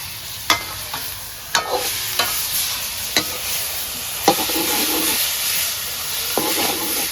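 Pork with turmeric and spices sizzles steadily in a hot pan, cooked with sour ou fruit, as a spatula scrapes and knocks against the pan in several sharp, irregular strokes close by.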